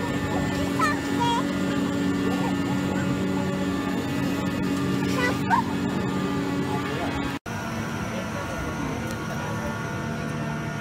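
A steady mechanical engine drone runs throughout, low and continuous, with a brief cutout partway through before the rumble resumes.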